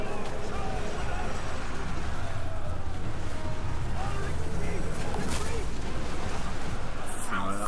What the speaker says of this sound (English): Alright, that was a lot of explosions.